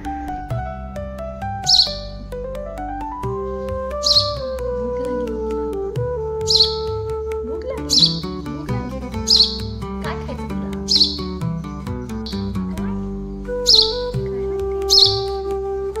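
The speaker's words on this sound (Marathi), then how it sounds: "तिचा रिस्पॉन्ड पण आला, तिने चिवचिवाट केला" A sparrow chick gives a string of short, high chirps, about eight spaced bursts, over steady background music.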